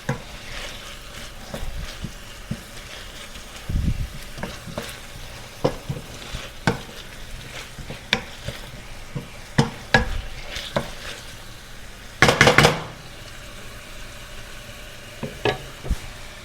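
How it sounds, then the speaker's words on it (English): Onions and vegetables sautéing with curry in a pan, a steady close sizzle broken by scraping and knocking stirs and one brief louder clatter, with no voices. "I will burn the curry along with the sauteed vegetables"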